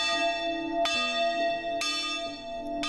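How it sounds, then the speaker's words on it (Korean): A church bell rings for a Wednesday evening service at an old rural church in Bonghwa, Korea, giving three clear, resonant strikes about a second apart with long ringing tones between them, alone and fairly close. "두 번째 교회 종이 울리고 수요 저녁 예배가 시작됩니다."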